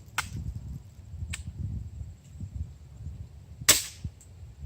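Three sharp BB gun shots hit a gutted boombox, sparse and close, with the third strike loudest, over a low murmuring background.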